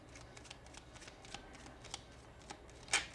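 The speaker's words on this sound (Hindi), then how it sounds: "एक मिनट, मैं डेक चेंज करती हूँ" A tarot card deck is shuffled by hand, soft rapid riffling and flicking of cards close by, ending with a sharper snap of the deck.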